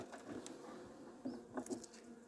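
Honeybees hum softly at an open hive during a winter check, a faint, steady buzz with a few insects flying close and briefly louder.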